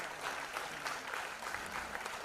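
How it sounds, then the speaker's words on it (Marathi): Brief burst of audience applause welcoming a guest onto the stage at a book launch event, dense continuous clapping heard from within the crowd, somewhat distant. "आपण जोरदार टाळ्या वाजवून त्यांचं स्वागत करूया."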